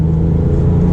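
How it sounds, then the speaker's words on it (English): A Porsche 997 GT3 with a loud aftermarket exhaust drones steadily while driving, a close, heavy low rumble filling the whole moment. "Now this is loud. This looks like an aftermarket exhaust to me."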